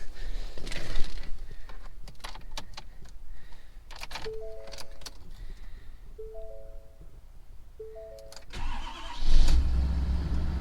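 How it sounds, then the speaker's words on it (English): Ford 550 truck, unused for a few days, cranked over in a cold start, then the engine catches and runs at a steady idle, with a louder surge near the end. "let's get a cold start on the 550"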